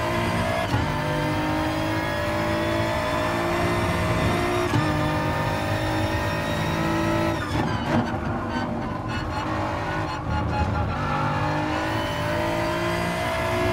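A BMW race car engine in Gran Turismo Sport screams at high revs, climbing through gears with sharp shift drops, steady and loud throughout with no voices.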